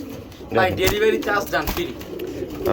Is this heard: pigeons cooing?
yes